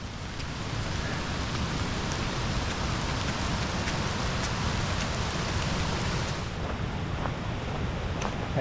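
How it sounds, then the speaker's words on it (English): Heavy rain pours down on a mountain hiking trail in Bair Canyon in June, making a dense, unbroken hiss of drops hitting the ground and foliage that stays loud and even throughout. "raining cats and dogs. It might be hard to tell on the GoPro, but it's coming down good."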